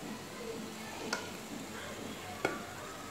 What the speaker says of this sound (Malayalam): ഇനി ഇത് നന്നായിട്ടൊന്ന് വഴറ്റി കൊടുക്കുക